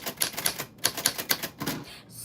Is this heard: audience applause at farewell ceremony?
no